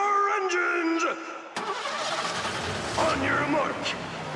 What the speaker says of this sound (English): Chauffeurs, start your engines!